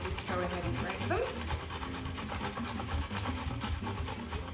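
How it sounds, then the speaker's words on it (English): Unpeeled carrots are grated for a crunchy coleslaw with steady, dense rasping strokes close to the listener, loud and continuous throughout. "so we've grated our carrot"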